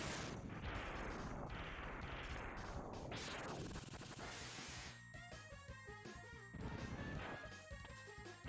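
Explosions and crashing blasts in the Mega Man X game, dense bursts of smashing and booming effects layered over game music, loud and continuous with no talk.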